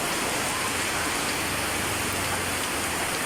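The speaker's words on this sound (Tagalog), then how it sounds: "Ang lakas ng ulan. Sobrang lakas ng ulan." Heavy rain pours steadily in a dense, unbroken hiss, loud and close throughout.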